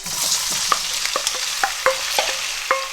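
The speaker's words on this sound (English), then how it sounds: "I'm just going to fry these over until they become a little bit soft" Potatoes fry in hot oil in a pan with a close, steady sizzle, broken by sharp metallic clinks and scrapes as they are stirred every half second or so. Nobody talks.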